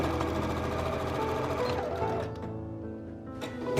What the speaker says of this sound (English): then I'm going to sew along that edge